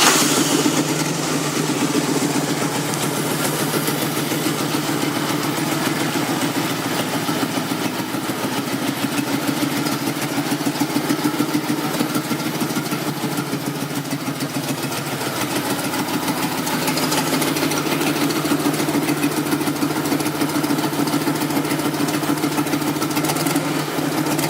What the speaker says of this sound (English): Got a really low idle.